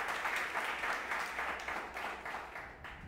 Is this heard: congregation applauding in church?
yes